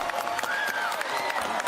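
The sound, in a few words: crowd clapping for an announcement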